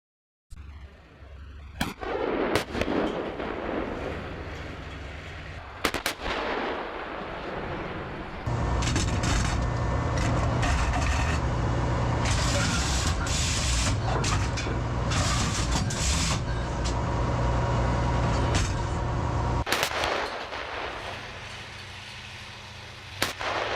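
Russian Msta 2S19M2 self-propelled howitzer firing in Ukraine: sharp, loud blasts near the start and around six and twenty seconds, with a heavy, steady engine roar and mechanical noise filling the long stretch between them.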